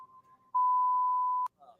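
A single loud, steady censor beep lasting about a second, cutting off sharply, with quiet speech fragments around it.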